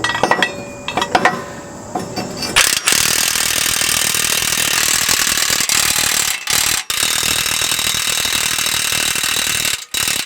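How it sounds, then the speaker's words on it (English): A pneumatic cutoff wheel driven by an air compressor screams loudly and continuously while cutting on a truck suspension job, preceded by a couple of seconds of clinking and air hiss, with brief dips as the tool pauses. "I haven't really used this cutoff wheel on this compressor compared to the old shop compressor"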